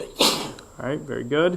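A single sharp sneeze bursts out in a calculus classroom during a lecture, and a person speaks right after it.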